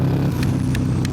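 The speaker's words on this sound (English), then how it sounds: "But I ain't gonna lie, the turbo sounding good in this rain." Turbocharged 135 CVO ST motorcycle engine riding in the rain, a steady close rumbling drone with a continuous broadband hiss of wind and spray.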